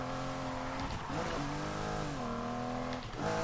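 A race car engine in the Need For Speed Heat video game drones steadily at high revs for several seconds, with pitch shifts as it shifts gears and accelerates, loud and continuous with no talk.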